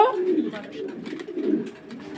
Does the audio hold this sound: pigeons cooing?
yes